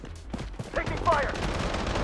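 Gunfire in the shooter game Blood Strike, a dense burst of rapid shots with an in-game callout voice briefly heard, fairly faint and short.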